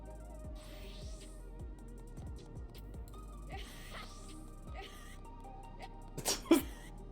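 A nearby sneeze bursts out near the end, two sharp bursts over a continuous background of game music.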